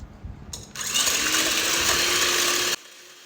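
An electric beater whips eggs, sugar and cake flour in a loud, close whirring burst of about two seconds that cuts off abruptly.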